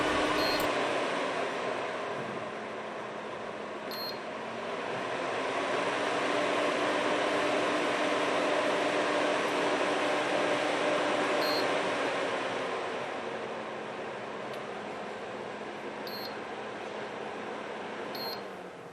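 A Houzetek Q7 air purifying dehumidifier runs its fan on maximum mode, producing a steady, broadband whoosh that swells and dips gently, with a few short electronic beeps from the unit.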